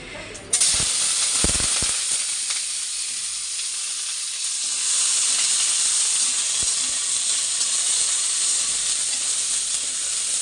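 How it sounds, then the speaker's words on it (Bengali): Bitter gourd and pumpkin pieces are fried in a pan and give a loud, continuous sizzle that swells after a few early clatters and stirs, with no talking over it. "তো উচ্ছে আর কুমড়ো এখন ভাজবো।"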